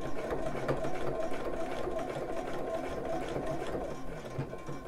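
A sewing machine stitches channeling onto a bra, running in a steady continuous whir with rapid needle rhythm, close and fairly loud throughout.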